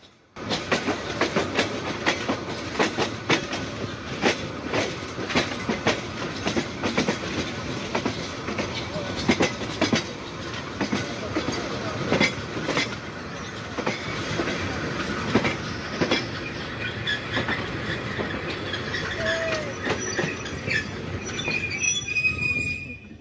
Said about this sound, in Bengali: আমাদের ট্রেন কিন্তু গফরগাঁও রেল স্টেশন ছেড়ে দিয়েছে।